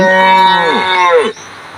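A long, drawn-out cow moo from the Deer Simulator video game, loud and close, gliding downward in pitch before cutting off abruptly, with no talk over it.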